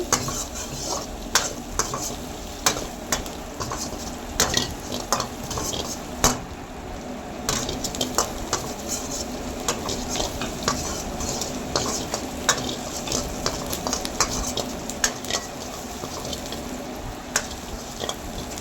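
Cashews sizzle in hot oil for cashew chicken while a spoon scrapes and stirs the pan with frequent metallic clinks, close and moderately loud.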